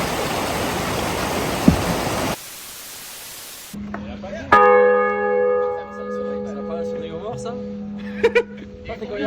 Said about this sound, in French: C'est quand il y a un mort, ça s'appelle le glas.